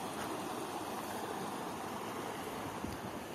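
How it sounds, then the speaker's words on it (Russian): A small artificial waterfall in a seaside park on the Konyaaltı waterfront in Antalya gives off a steady, even rush of splashing water. It sounds close and continuous with no talking. "Мини-водопад."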